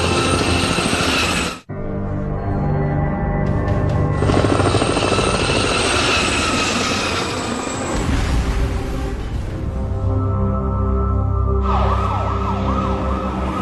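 A helicopter in an emergency scene roars continuously and loudly, its rotor and engine drone layered with a wailing emergency siren, with a brief cut near the start and a rising tonal sweep toward the end.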